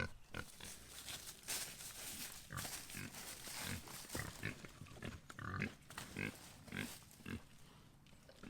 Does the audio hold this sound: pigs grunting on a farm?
yes